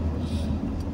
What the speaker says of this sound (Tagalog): Truck ng basura, garbage truck.